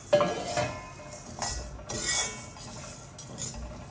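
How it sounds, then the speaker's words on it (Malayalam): A spoon scrapes and clinks against a metal pan as dry lentils are roasted and stirred, with intermittent rattling strokes and no talking. "പരിപ്പുകളെല്ലാം ശരിയാണ്. നന്നായിട്ട് വറുക്കാം."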